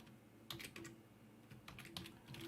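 Steady typing on a computer keyboard while working in an Excel spreadsheet, a quick run of key presses in close irregular bursts, fairly quiet against a low room hum.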